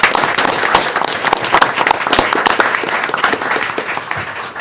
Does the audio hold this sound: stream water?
no